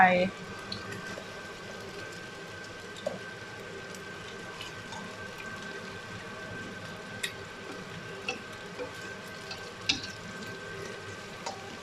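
Eggs fry and set in a wok for Thai stir-fried noodles, a steady soft sizzle running throughout with small crackles and ticks, close and moderate in level.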